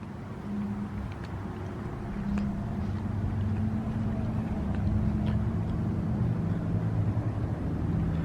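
A Ford 6.0 Powerstroke diesel truck engine idles loudly and steadily nearby, a deep continuous rumble with a droning tone holding throughout and no speech.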